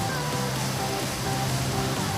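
Heavy monsoon-style rain driven by strong wind, a steady broadband hiss of downpour with low rumbling gusts underneath, continuous and fairly close, with no voices.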